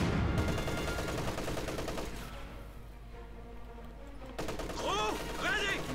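MG34 machine gun fire in the Company of Heroes 2 video game, heard as steady rapid battle fire in a dense mix with other game sounds, running under continuous commentary.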